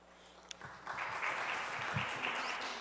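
Applause breaking out at a city council meeting, starting with a brief sharp clap and then building into steady, moderately faint clapping from a room of people.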